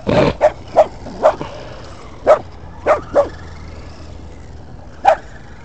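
A single dog barks in seven sharp, separate woofs spread over a few seconds, close and fairly loud, with quiet pauses between them and no talking.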